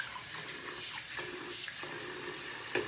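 Running tap water splashing over a reptile hammock as it is rinsed in a sink, a steady close wash of water with small shifts in flow and a brief louder splash near the end.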